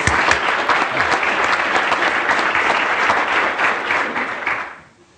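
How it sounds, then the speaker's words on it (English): A large crowd applauds steadily and loudly for several seconds at a Carnegie Mellon University teaching award event, then the clapping quickly fades out. "Give him a little round of applause."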